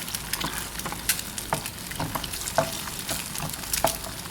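Two eggs frying in a pan for stir-fried straw mushrooms, a loud, close, steady sizzle with rhythmic scraping as they are stirred, and no talking.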